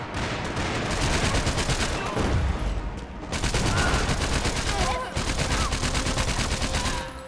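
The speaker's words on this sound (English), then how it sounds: "This gun is like amazing. It's destroying these guys. The M4." Rapid automatic M4 rifle fire in Max Payne 3 PC multiplayer rattles almost continuously, loud and close, broken only by brief pauses between sustained bursts.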